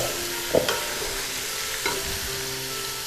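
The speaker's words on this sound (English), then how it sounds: "And now I'm going to put the onions, carrots, celery into the pot." Onions, carrots and celery cook in a pot with a steady low sizzle under two distinct clunks of vegetables and a utensil against the pot, with no talking.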